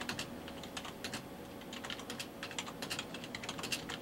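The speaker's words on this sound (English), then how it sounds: "What is it you're typing?" Steady clicking of computer keyboard keys, a quick irregular run of keystrokes at close range, heard alone with no voices.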